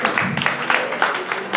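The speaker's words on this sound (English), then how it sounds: "Can you all give a big round of applause to Linda" Short round of applause for Linda from an audience at a pitch night event: a brief patter of many hands clapping, fairly close and steady.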